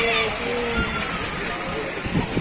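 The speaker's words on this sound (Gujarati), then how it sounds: "જુઓ તમે અહીંયા ફુવારા થાય છે" A water fountain splashes outdoors at a gurukul campus in Surat, with a steady close wash of spray and sloshing. Children play in the water, and voices are audible over it.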